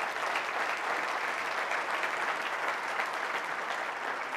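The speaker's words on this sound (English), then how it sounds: "someone give them an applause" Crowd applauding at a State of the City address, an even, unbroken rush of many hands clapping, moderately loud and steady from start to finish.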